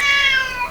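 A pet cat gives a single drawn-out meow, clear and close, tapering off in pitch over under a second, with no talking.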